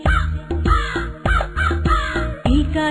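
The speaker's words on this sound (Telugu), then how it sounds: "కాకి కాకి కలువుల కాకి కాకి నాకు ఈకా ఇచ్చి" A crow caws over and over in a children's nursery rhyme, loud and close, each harsh call repeating in a regular rhythm about every half second with brief pauses between groups.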